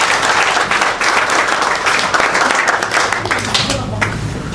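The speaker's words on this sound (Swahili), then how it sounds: "Hebu jipigieni makofi." Loud, sustained applause from an audience at a youth political meeting, dense clapping filling the whole moment without a break.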